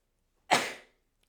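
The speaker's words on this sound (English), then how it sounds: "I never sneeze in readings" One sharp, close sneeze from a woman indoors, bursting out suddenly and fading within about half a second, alone in an otherwise quiet room.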